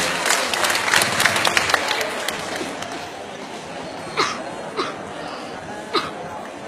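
Audience applause at a live singing show in Pampanga, busy clapping that starts strong and gradually thins out, giving way to chatter and scattered laughter with a few sharp claps or shouts near the end.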